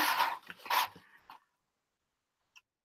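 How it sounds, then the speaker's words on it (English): A dog growls and vocalizes in a few rough, close bursts over the first second or so, then falls silent apart from a faint tick near the end. "So where's my dog growling at?"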